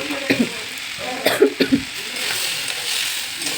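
Squash, potato and peas stirred in a frying pan: a few short scraping strokes in two quick clusters over a faint steady sizzle, with a brief throaty vocal sound mixed in.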